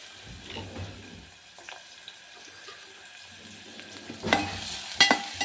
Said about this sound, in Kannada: ಈಗ ನಾನು ಸಣ್ಣದಾಗಿ ಈರುಳ್ಳಿ ಹೆಚ್ಕೊಂಡಿದ್ದೀನಿ ಅದನ್ನ ಇದ್ರೊಳಗಡೆ ಹಾಕ್ತೀನಿ ಚೆನ್ನಾಗಿ ಫ್ರೈ ಆಗಬೇಕು